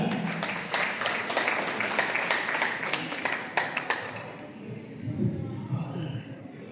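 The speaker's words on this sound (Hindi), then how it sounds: "जोरदार तालियों के साथ।" An audience claps loudly and steadily for several seconds as a speaker is invited to the stage at a traders' association gathering in a dharamshala hall, then the applause fades into murmuring room noise.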